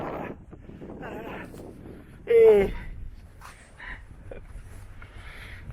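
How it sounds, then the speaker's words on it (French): Wind buffets the microphone outdoors within sight of Mont-Saint-Michel, a steady low rumble and roar running under conversation, with one brief louder gust-like burst partway through. "Il y a du vent"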